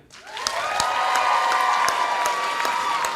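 An audience bursts into applause and cheering at a comedy talk show, building quickly then holding steady with dense clapping and whoops, fairly loud.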